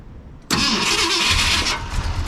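A Ford F100 pickup truck engine with a fresh battery and a faulty electric choke bursts into a loud start after a brief quiet lead-in, then runs roughly and unevenly at close range.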